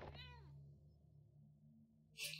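A cat in the video game Impostor Factory gives a single short meow at the start, followed by quiet background tones and a brief burst of noise at the end.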